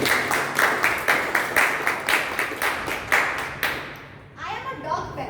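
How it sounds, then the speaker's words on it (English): Audience applause for the parents at a Toastmasters club meeting, a dense, sustained round of clapping that fills most of the stretch before fading into quieter scattered claps near the end. "All the parents here deserve a huge round of applause for making it till here."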